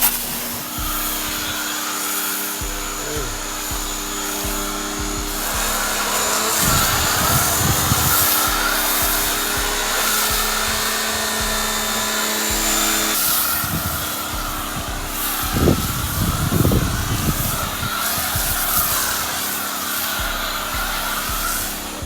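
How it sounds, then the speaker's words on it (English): Car pressure washer running steadily during a wash of a turbocharged Infiniti G37, a continuous loud hiss and whine with low pump rumble and bursts of spray, no talking. "if your detailer don't have a filter with the pressure washer, you got the wrong detailer."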